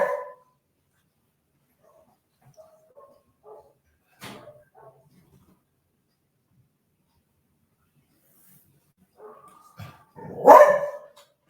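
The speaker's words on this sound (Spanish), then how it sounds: "Voy a detener un momento el audio por los perros que ladran." Dogs bark in short scattered bursts, faint and distant at first, then a louder, closer flurry near the end, with no talk over them.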